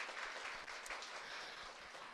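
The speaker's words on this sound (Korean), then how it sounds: "분께 한 번 더 큰 박수 부탁드립니다" Steady, fairly faint applause from an audience at a one-day business training session, continuous dense clapping with no talk over it.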